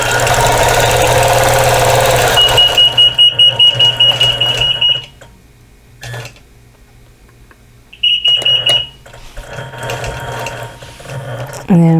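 Fast mechanical clatter of a sewing machine stitching cross hatching on a butterfly applique quilt, running loud in bursts with pauses, a sustained electronic beep tone sounding twice between stretches of stitching.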